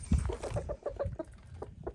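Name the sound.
chickens clucking while eating organic chicken scratch feed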